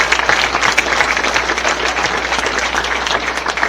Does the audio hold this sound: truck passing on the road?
no